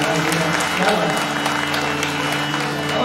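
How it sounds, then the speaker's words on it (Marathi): An audience at a devotional religious discourse in Pune claps steadily and loudly, a dense continuous applause filling the whole stretch. "एकदा जोरदार टाळ्या यांच्यासाठी झाल्या पाहिजे"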